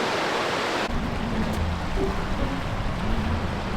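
Waterfall in Scotland pouring over stone steps, a steady broadband rush of falling water that fills the scene close by and grows fuller after the first second.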